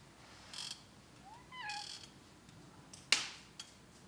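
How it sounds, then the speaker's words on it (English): A pet cat named Tuco meows a few short, rising calls at a quiet indoor evening hour, with a sharp click or tap cutting in near the end and no talking. "This cat just always wants more."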